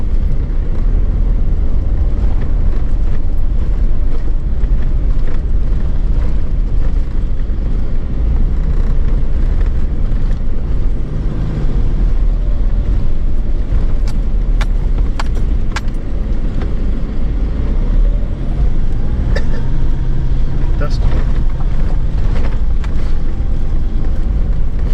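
Vehicle climbing a hill on the Clear Hills bush track, its engine a loud, steady rumble throughout, mixed with wind buffeting and occasional knocks from the rough ground, with no voices.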